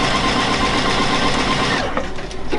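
A Juki DX7 sewing machine stitches in one continuous dense mechanical whir that runs steady and loud, then briefly breaks up near the end.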